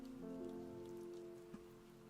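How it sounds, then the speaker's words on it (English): Rain from a storm falling just outside, heard indoors as a soft continuous hiss beneath a steady low tonal hum, faint and unbroken for the short stretch. "I hope you guys aren't hearing the rain."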